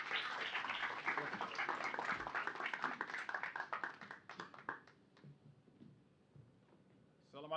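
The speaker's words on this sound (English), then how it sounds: "Can we give a big round of applause?" Audience applause at a panel event on trafficking, a burst of clapping from a crowd that thins out and dies away into a quiet room, with a brief sound at the very end.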